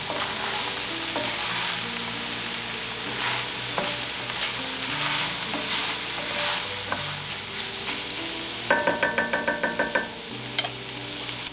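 Spoon stirring a lasagna mixture of paprika and cayenne in a skillet, steady sizzling with scraping strokes throughout, then a quick run of sharp metallic taps near the end.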